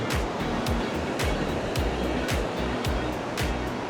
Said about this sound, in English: The waves are quite strong here, to be honest.